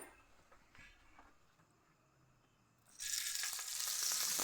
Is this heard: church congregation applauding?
no